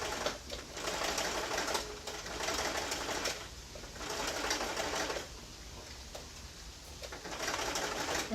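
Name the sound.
sewing machine back stitching welt on a slipcover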